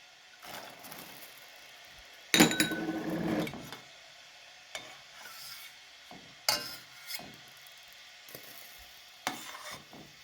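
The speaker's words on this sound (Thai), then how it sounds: "นี่ยายก็จะเอาลูกเดือยใส่ลงไปเลยนะคะ" Job's tears grains pour into a pot of water with a brief rattling rush, followed by scattered softer clinks and rustles of kitchen handling, close and without talk.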